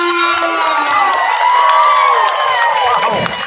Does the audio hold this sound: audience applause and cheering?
yes